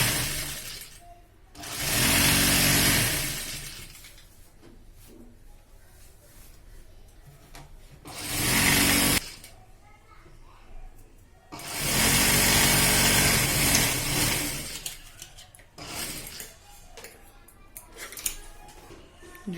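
A sewing machine stitches an L-type seam on piping, running in two or three loud sustained bursts of a few seconds each with quieter handling gaps between them.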